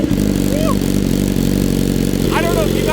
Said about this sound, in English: let's start this full Akrapovic titanium exhaust. Let's go. Cold start.